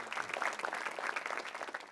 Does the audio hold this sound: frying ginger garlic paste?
no